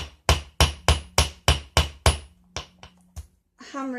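Steady hammer blows on copper wire, about eight sharp evenly spaced strikes, then a few lighter taps and a brief voice at the end.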